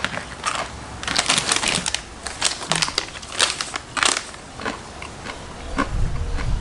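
Barbecue snack mix from a Canadian Army ration pack crunches loudly and close, with repeated bursts of brittle crackling chews separated by brief pauses.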